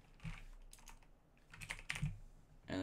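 Keys on a computer keyboard get typed in a few quiet, scattered clusters of soft clicks, close up with a low room hiss and no talking.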